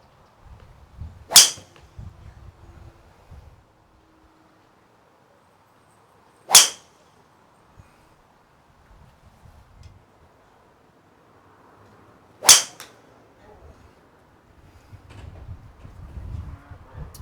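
Three sharp, loud strikes of golf balls hit with a Ping G400 3-wood on a soft regular shaft, spaced several seconds apart, with faint low rustling and movement between shots.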